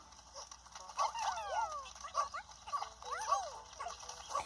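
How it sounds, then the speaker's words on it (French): Dog sounds from the video game Pikmin 4: several short yips and whimpering barks in quick bursts, moderately loud over a faint game background. "le chien va les aider"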